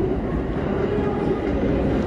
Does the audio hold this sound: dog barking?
no